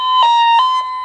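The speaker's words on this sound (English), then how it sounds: "You flip it that way, you get your tone." A Tempo 801K toner tone generator running on a 9-volt battery emits a loud, steady high-pitched electronic tone, close and continuous, with no voices.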